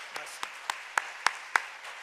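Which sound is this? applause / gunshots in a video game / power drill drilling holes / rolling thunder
applause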